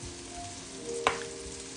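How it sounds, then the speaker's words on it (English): Garlic tossed into a hot pan with cooked bacon for a loaded baked potato orzo, giving a steady soft sizzle with one brief louder hiss as it lands. "I'm gonna quickly throw in my garlic."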